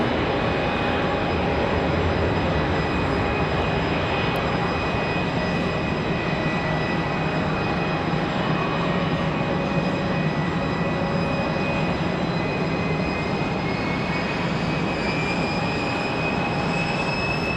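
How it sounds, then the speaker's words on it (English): A United Airbus A321 airliner near Raleigh-Durham International Airport produces a loud, steady, broadband engine roar that holds unbroken for the whole stretch, with no voices. "Got a United over there lurking just behind these two. Looks like an"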